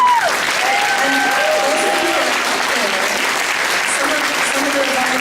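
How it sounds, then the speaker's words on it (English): Audience clapping hands for volunteers at a ball event, a steady, loud wash of applause throughout, with a few voices faintly mixed in. "So maybe we can just sort of clap our hands for them too for a second."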